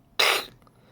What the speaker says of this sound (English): that's a sound that puppies make. It's not a hiccup. It's not a sneeze. That may be a sign that it's kennel cough